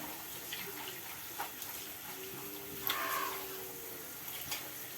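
Water running from a tap while dyed fabric is rinsed, a steady gentle splashing stream throughout with a brief louder gush midway, close and fairly soft.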